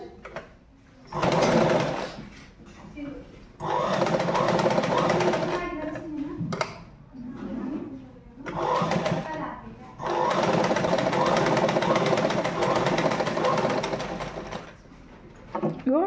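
A sewing machine runs in several long bursts while top stitching a folded jacket seam, its steady motor whir stopping and restarting between passes, with someone talking over and between the runs.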